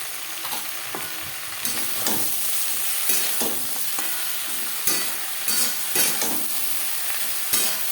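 Eggplant pieces sizzle in hot oil as a spatula stirs them through the pan in repeated scraping strokes, close and clear, with no voices.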